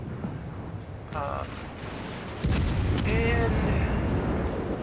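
Heavy ship guns boom in a naval combat video game, a loud low blast cutting in midway and holding a dense rumbling roar, with a voice speaking briefly underneath.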